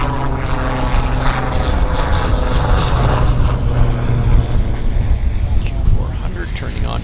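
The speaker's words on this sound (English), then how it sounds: "Q400 turning on to the active." A Q400 turboprop airliner turns onto the active runway at Vancouver International Airport, giving a loud, continuous propeller and engine drone with a steady low hum, heard from a close outdoor spotting position.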